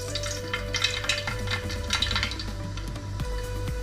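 Mustard seeds sizzle and crackle in hot oil in a heavy pan, giving a loud, busy spattering with quick pops throughout.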